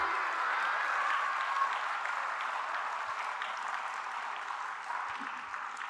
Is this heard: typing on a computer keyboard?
no